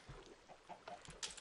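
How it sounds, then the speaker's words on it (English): Chicken from the Minecraft video game clucking in a few short, soft bursts, quiet and close, with no talking. "Turned into a chicken."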